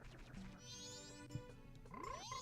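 Frog croaking in the Legend of Zelda: Majora's Mask video game, a few short tonal game-sound croaks and chirps with rising pitch sweeps, moderately quiet, with no talking.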